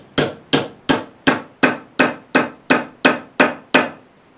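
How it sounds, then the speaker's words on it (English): A cross-peen hammer strikes copper sheet in eleven evenly spaced, sharp blows, each a crisp metallic knock with a short ringing decay, close and loud, with no talk. "Then I'll take the Cross-Peen Hammer, and what I want to do is I want this hammer to strike a gentle blow starting from the middle, working out to one end."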